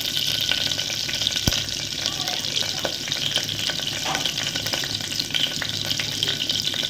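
Spices such as cloves and cinnamon sizzle and crackle steadily in oil close by, with a faint scrape of stirring now and then and no talking.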